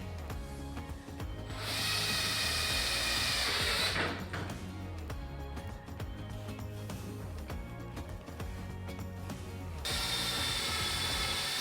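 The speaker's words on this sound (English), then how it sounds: "time to screw them together with part J," Self-tapping screws driven into swim spa step frame parts with a power drill: a steady whirring drive sound runs in two long bursts, with ratcheting mechanical clicks between them, close and fairly loud.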